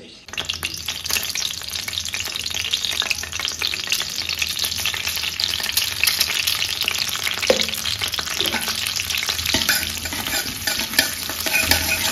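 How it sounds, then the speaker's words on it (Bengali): Steady, loud sizzling of fennel, bay leaves and dried red chillies frying in hot oil, with occasional stirring scrapes, continuous throughout and close up. "আমিও মৌরি, তেজপাতা, শুকনো লঙ্কা ফোড়ন দেবো"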